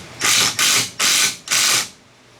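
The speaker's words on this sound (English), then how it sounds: "Now I'm gonna slightly tighten this one down to hold the tank in place where we want it." A ratchet tightens a bolt to mount a D&M split tank on a RZR Turbo, four loud close rasping clicks in a steady rhythm.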